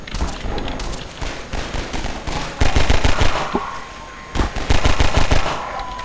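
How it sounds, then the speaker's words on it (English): Rapid automatic gunfire in Half-Life 2, loud stuttering bursts with short pauses between them and game background sound underneath. "Stop shooting me!"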